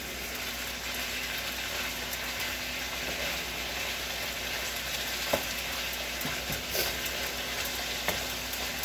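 Food being stirred gently in a frying pan with white pepper, a continuous soft sizzle broken by scattered utensil scrapes and light taps, close and steady.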